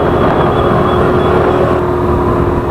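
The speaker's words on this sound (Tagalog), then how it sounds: "maririnig nyo naman yung makina kung hirap ba siya o kung kayang-kaya" A motor scooter engine drones steadily up close while riding a zigzag road in Talisay, Batangas, a constant hum and rumble as the vehicle keeps moving, with no voices.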